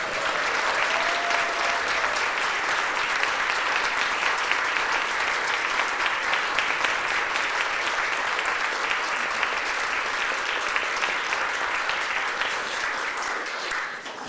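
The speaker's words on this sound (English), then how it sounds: "Can you please give a round of applause to my grandmother?" A large audience applauds at an award ceremony, honoring the recipient's grandmother: steady, dense clapping from a full crowd sustained for the whole stretch, with no voices rising above it.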